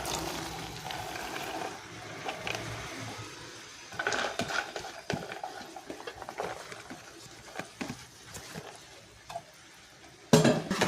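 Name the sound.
onions cooking in a pan on low flame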